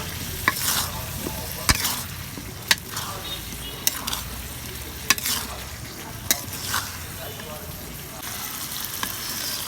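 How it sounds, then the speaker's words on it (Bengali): Potatoes and meat frying with spices in a pan, stirred vigorously so a utensil raps the pan in sharp intermittent knocks over a constant close sizzle. "এই যে আলুটা দিয়ে দিলাম, আমি ভালো করে নাড়াচাড়া করে দেব।"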